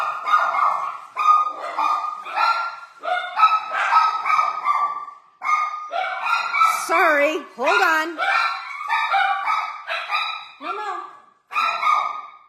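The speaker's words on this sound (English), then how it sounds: "No barking." Several dogs barking loudly and repeatedly at someone at the front door, with sharp yips and a whining howl mixed in, while a person briefly speaks over them.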